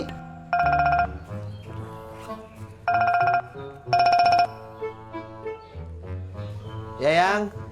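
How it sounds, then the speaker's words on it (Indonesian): A mobile phone ringtone sounds in three loud melodic bursts, close and clear, separated by short gaps filled with voices talking. "Jak, handphone lo bunyi."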